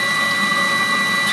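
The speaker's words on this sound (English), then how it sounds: "Here the coolant pump has just started circulating." A Webasto Thermotop C coolant pump on a motorhome water heater circulating its coolant circuit, a steady continuous hum and whir with constant tonal whine, close and unbroken with no talk.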